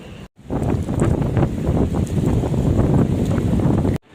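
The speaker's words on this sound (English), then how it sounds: "The wind is insane." Strong, gusty wind buffets the microphone outdoors in Sydney, a loud continuous rumbling roar that starts abruptly, surges for several seconds and cuts off sharply.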